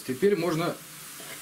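Chopped carrots frying in oil in a pan while being stirred for pilaf, a steady soft sizzle under a close speaking voice.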